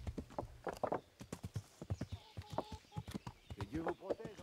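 Horse hooves clop in the Kingdom Come: Deliverance video game, a quick rhythmic run of close hoofbeats under someone talking in French.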